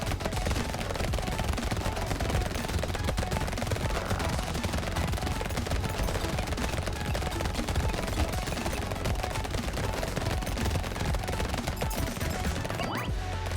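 Several SMGs firing nonstop in Brotato, a loud dense clatter of rapid shots and impacts that runs steadily throughout with no pauses.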